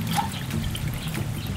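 Water poured into a cooking pot of sweet potato, coconut milk and salt, a continuous close trickling, splashing pour lasting the whole short moment.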